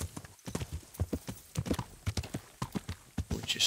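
Horse hooves clip-clop on the ground in the medieval game Kingdom Come: Deliverance as the horse is moved along, a steady, moderately loud rhythm of hoof strikes with no talking.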